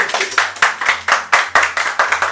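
Office team claps during a surprise celebration, a near, loud burst of about ten sharp, evenly spaced hand claps, a steady rhythm with no talk.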